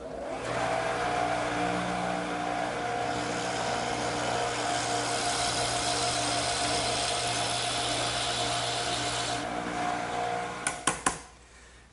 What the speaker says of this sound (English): this one I'm going to have to drill all the way through